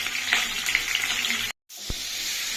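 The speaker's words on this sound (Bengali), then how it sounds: "এভাবেই আমরা এই সবজিগুলোকে এক এক করে ভেজে নেব" Vegetables fry in a pan for khichuri, giving a steady close sizzle that cuts out for a moment before resuming, with a single short knock afterward.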